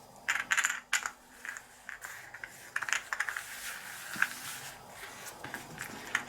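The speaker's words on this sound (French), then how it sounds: "Alors je vais mélanger les jetons action" Small cardboard action tokens for the board game Caldera Park are shuffled and clicked together on a table in quick, light rattling bursts, soft and close.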